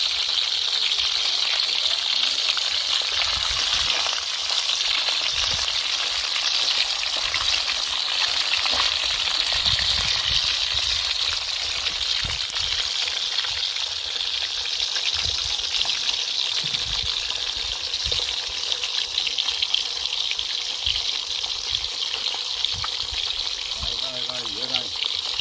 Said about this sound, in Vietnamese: Cá sặc này chiên nhanh mà.